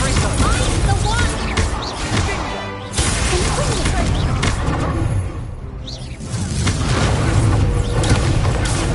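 The Confringo explosion spell fires in the video game Hogwarts Legacy amid a loud, dense mix of booming blasts, whooshes and crashes that runs almost continuously, with talking over the action.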